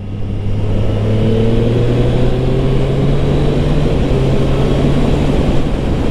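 A 2023 Triumph Street Triple RS motorcycle riding through a turn on Pirelli Rosso Corsa 4 tyres, a loud continuous engine drone with a pitch that slowly falls and then rises again, mixed with heavy wind noise.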